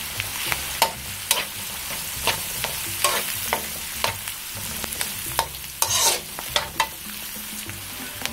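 Chicken frying in a pan with garlic and onion for pansit canton, a steady close sizzle with repeated scraping stirs and clacks of a utensil against the pan at an uneven rhythm.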